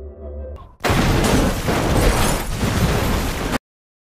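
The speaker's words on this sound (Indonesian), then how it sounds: "mobil yang mengejar mereka seketika meledak setelah menghantam benda itu" A chasing car explodes in a film scene, a sudden loud close boom that follows a brief low rumble and roars on with crackling debris for nearly three seconds before cutting off abruptly.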